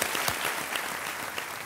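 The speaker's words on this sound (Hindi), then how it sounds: "ताली बज जाए उन्नत जी के लिए" Studio audience at a TV quiz show applauds a contestant, a dense, steady patter of many hands clapping throughout, close and lively.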